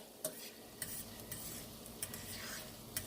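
Shallot and garlic soften in a pan for a Thai garlic shrimp Alfredo, giving a quiet steady sizzle under a few light stirring scrapes and taps of a utensil against the pan, with no talking.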